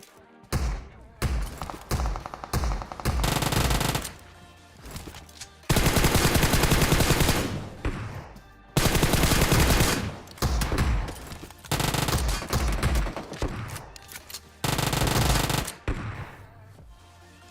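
Desert Eagle and other gunfire in the mobile battle royale game Free Fire, loud bursts of repeated shots in several rapid volleys separated by brief quiet gaps.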